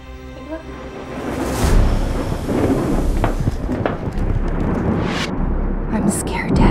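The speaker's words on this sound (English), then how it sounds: "It's just a storm, it'll pass." A thunderstorm rumbles through a horror trailer scene, with a heavy, continuous roar of rain and thunder, several sharp cracks standing out, and a dramatic score playing underneath.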